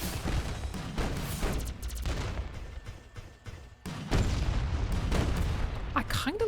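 Big cannon firing in the mech game Mech Havoc: a series of heavy booming blasts amid scattered gunfire, with a lull before a powerful, sustained barrage toward the end; a voice talks over part of it.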